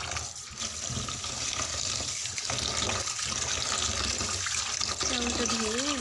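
Rice is washed under running tap water, with a steady close splash and gush of water into a sink throughout, and a few soft handling sounds mixed in.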